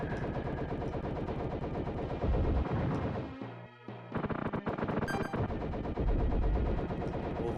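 Rapid video-game gunfire in Rendering Ranger: R2, with dense continuous shooting layered over loud explosions and music, a brief lull midway, then the barrage resumes at full volume.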